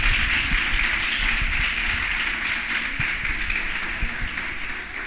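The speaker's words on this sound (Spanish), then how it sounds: "Aplausos al Rey que vive." A church congregation applauds during a sermon, a broad, continuous wash of clapping at moderate level with scattered low thumps, easing slightly toward the end.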